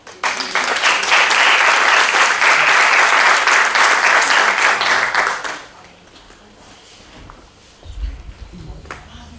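An audience claps loudly and steadily for a speaker from the Correos post office of Benidorm at a talk, dense applause lasting about five seconds before breaking off into quiet room noise and a low thump.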